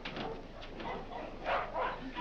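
A dog barks and whimpers faintly in a few short yips, mixed in with people talking in an old film soundtrack.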